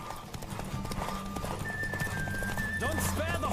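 A horse gallops in the video game The Witcher 3, with steady rapid hoofbeats, a neigh near the end and a whistling tone over a game soundscape.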